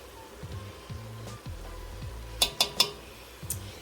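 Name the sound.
teaspoon of garlic powder being added and stirred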